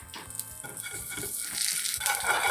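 Garlic hits hot oil in a pan over a high flame, giving a steady crackling sizzle that swells louder toward the end, with faint clinks of stirring underneath.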